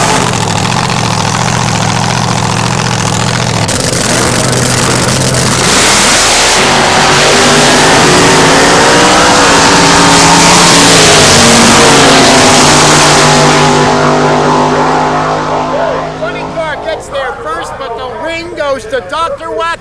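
Drag racing cars, including a Chevrolet Vega, roar loudly at the start line and accelerate hard down the strip, the engine note sweeping up as they go, with a commentator talking over the din that fades toward the end.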